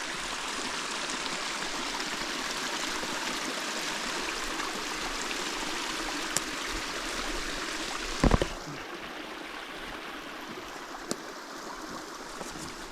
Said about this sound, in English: This is where the source of the spring, all the water that's coming down below.